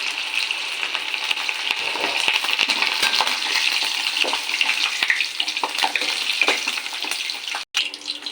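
Mango pieces frying in boiling oil for pickle, a dense, close, continuous sizzle and bubbling with small clinks and stirring sounds, briefly cutting out near the end.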